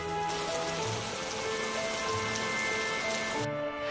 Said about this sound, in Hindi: जल्दी ही बारिश रुक जाएगी।